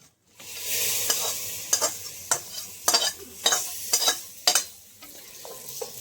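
Fried spice tempering poured into daliya sizzles softly while a spoon scrapes and knocks against the pan in about eight sharp strokes, close and clear without any talk.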